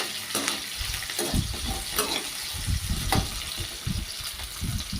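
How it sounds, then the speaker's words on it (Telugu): Onions frying in a pan until golden and dry, a steady close sizzle with occasional stirring scrapes and clinks running throughout. "సో మంచిగా దాన్ని వేగేంత వరకు బాగా దోరగా వేగనిద్దాం."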